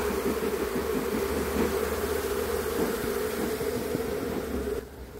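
Honey bees hum in a steady, dense, close-up drone at an open beehive during an inspection, continuous and loud throughout.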